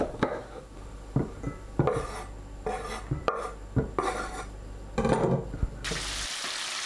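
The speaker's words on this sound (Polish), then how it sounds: "3 średniej wielkości cebule kroimy w piórka." Three medium onions being sliced into thin half-moon strips in a kitchen while fish fries nearby, with a series of knife strokes and clatters against a board over a steady sizzle.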